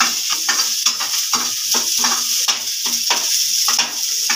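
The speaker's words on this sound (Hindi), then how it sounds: "अब इसको थोड़ा सा भून लेंगे।" Thick-cut chopped onions fry and sizzle in a pan for poha, with a steady loud hiss broken by rhythmic scraping stirs of a spoon against the pan, close up and without voices.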